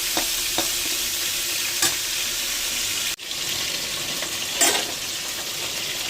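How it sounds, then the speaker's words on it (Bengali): Onion frying in oil is stirred around a pan, producing a loud steady sizzle broken by scraping stirs, a brief dip, and a louder scrape near the end. "পেঁয়াজটা আর একটু ভাজা হবে"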